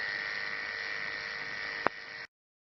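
Electric razor shaving a dog's fur, buzzing steadily at close range, then a sharp click and the motor cuts off abruptly.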